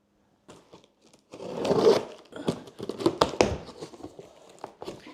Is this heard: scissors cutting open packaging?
yes